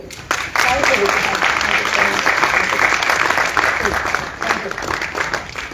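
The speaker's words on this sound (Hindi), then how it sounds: "एक बार शानदार ताली अपने लिए।" Audience applause at a training seminar in Lucknow, a dense, sustained clapping that starts after a brief pause and carries steadily for several seconds at close range.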